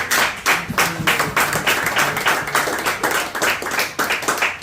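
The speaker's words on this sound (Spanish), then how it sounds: "Denle un fuerte aplauso a Cristo." A church congregation claps loudly and steadily after being called to applaud Christ, a dense near wash of many hands with irregular clap bursts throughout.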